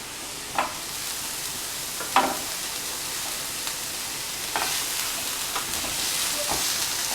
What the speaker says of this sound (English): now just put the flame in a low flame, and then we have to saute it